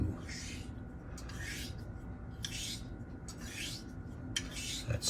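A straight razor strokes back and forth across a coticule stone in a steady rhythm, five or six soft scraping passes, close and quiet with a gritty rasp.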